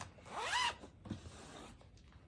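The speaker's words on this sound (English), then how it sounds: "Lots of zipper pulling." A zipper on a cross-stitch project bag is pulled right beside the microphone on a tabletop, a quick, loud rasping zip followed by a couple of softer fiddling sounds.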